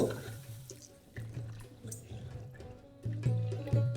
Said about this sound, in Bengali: এবার এটাকে ভালো করে আমি একটু ধুয়ে নেব